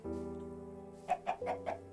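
A chicken clucks four quick, short times over a steady low hum, fairly faint and alone.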